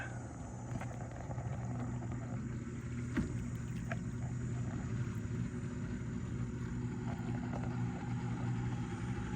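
A new boat engine runs steadily at low speed on Lake Champlain, a continuous low drone with faint water and wind noise, fairly quiet and unchanging.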